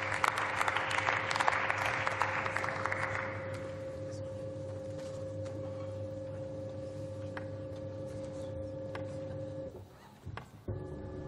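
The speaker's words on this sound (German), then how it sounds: "Dann können jetzt alle noch mal klatschen" Members of the German Bundestag applaud in a brief burst that fades after a few seconds, leaving a steady hum of the chamber with a couple of faint clicks near the end.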